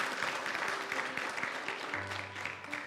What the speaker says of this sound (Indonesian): beri tepuk tangan sekali lagi buat Tuhan